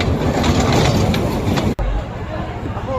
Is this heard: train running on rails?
yes